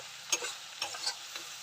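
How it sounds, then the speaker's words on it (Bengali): Eggplant slices frying in oil in a home kitchen pan, a soft steady sizzle with a few brief louder crackles and stirring scrapes, close and without talk. "আমার বেগুন ভাজা হয়ে এসেছে"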